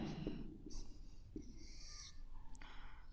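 Writing out a matrix for a ninth-class maths lesson: scratchy pen or marker strokes, up close and quiet, in short uneven bursts with brief pauses between them and no talking.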